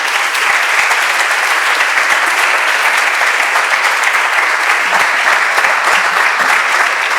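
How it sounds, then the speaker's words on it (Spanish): Sustained, loud audience applause at a conference day session, dense clapping from a large crowd filling the whole stretch without a break, no voices over it. "le demos un fortísimo aplauso, para que se sienta como en casa"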